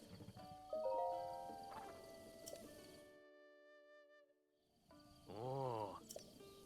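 Horse Epona in a Zelda video game, a short whinny rising and falling after hoof clops and faint game music tones, heard clearly with no talk.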